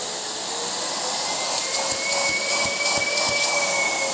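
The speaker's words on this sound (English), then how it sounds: "most of the sound is the air coming through the tips here. So that is very strong suction, and here is turbo mode." A cordless vacuum cleaner on turbo mode runs at a steady high-pitched whine with a strong airy hiss of air through the tips, close up, with light rhythmic tapping partway through.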